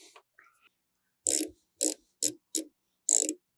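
A ratchet tightens the intake bracket on a 2020 Subaru WRX STI during a Cobb Redline carbon fiber intake install: five short, sharp bursts of clicking close by, after a few faint knocks, with silence in between.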